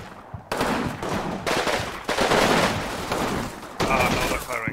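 Partisan fighters open fire in Combat Mission Fire and Rubble, a dense, continuous fusillade of small-arms and machine-gun bursts that swells in waves, loud and close, with no break for nearly five seconds.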